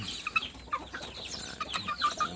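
Several chickens clucking and chirping nearby in quick, irregular bursts, with faint background noise.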